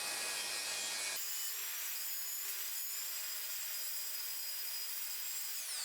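A plunge saw running on its guide rail cuts through wooden side panels, giving a steady, loud high-pitched whine after a brief rougher start, with no voices.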